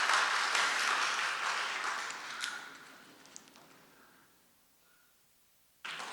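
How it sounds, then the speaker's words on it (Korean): Congregation clapping in encouragement at a church ordination service, loud at first and then fading away to near silence, followed by a sudden burst of sound at the very end. "다시 한번 격려의 박수 해주시기를 바랍니다"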